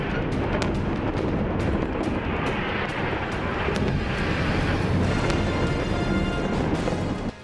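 A rapid, dense barrage of explosions from an Israeli missile strike on a Syrian military base near Damascus, with booming blasts and sharp cracks continuous and loud over a rumbling roar.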